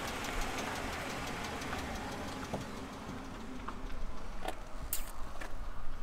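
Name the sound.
tourists' car engine driving by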